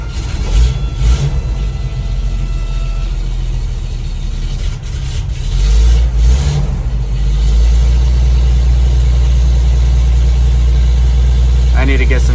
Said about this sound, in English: I'd grab the keys and jump in and start this thing